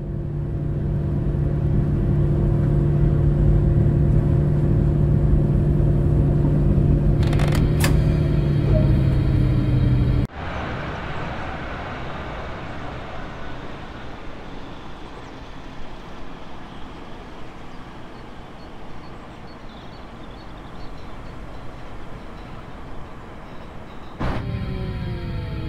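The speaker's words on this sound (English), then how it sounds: "We will now test the emergency brake and go over the critical steps needed to recover the train." Emergency braking of a train in Train Sim World 2 on the Dresden–Chemnitz Tharandter Rampe route: a loud sustained rumble with tonal whine shifts abruptly into a lower, steady grinding roar that continues until a final clatter.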